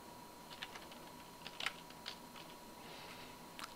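Sparse keystrokes on a computer keyboard while entering data into an Excel 2010 spreadsheet or formula bar, a few faint scattered clicks with one small burst near the middle, over a quiet steady room hum.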